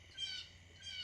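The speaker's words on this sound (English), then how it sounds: "I hope you can hear me over that bird that's squawking over there." Bird squawking outdoors nearby, two faint, raspy high-pitched calls roughly a second apart over low background hum.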